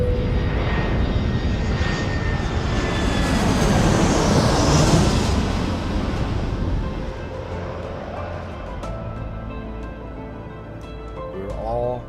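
A broad, steady roar of airplane engines and cabin rumble fills a flight, loud and constant, easing slightly toward the end.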